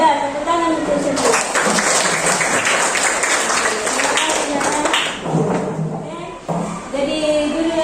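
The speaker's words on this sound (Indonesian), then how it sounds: "tepuk tangan untuk semua" A classroom of students clapping together, a burst of applause at moderate distance under a teacher's voice, with the clapping fading and returning over several seconds.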